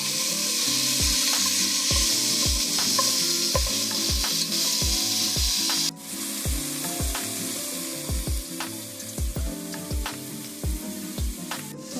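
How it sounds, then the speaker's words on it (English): Onions and celery sautéing in a pot for creamy vegetable soup, a loud steady sizzle with a regular series of spoon scrapes and knocks as the vegetables are stirred, close by. "my onions, and also celery. And we're going to let that saute for 5 to 7 minutes."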